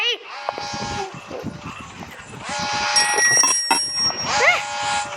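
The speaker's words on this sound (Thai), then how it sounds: "กระดิ่งของภาคหนึ่งฮะ เสียงนี้" A bright bell rings a few times amid electronic sounds in the game Granny 3, with people talking over it.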